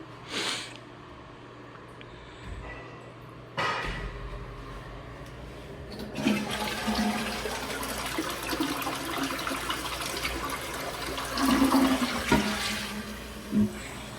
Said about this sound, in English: Toilet solid, it flushes.